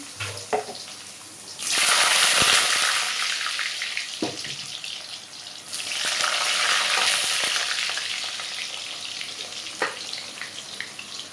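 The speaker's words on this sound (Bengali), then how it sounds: "এখন আলুগুলো ভেজে নেব।" Potatoes drop into hot oil in a pan and fry with two loud surges of close sizzling that settle into a softer crackle, with light clinks of stirring.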